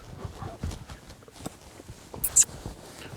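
Ridden horse walking during a horsemanship turns and rollbacks session, hooves striking in a soft, irregular clip-clop, close and moderately quiet, with a brief sharper noise near the end.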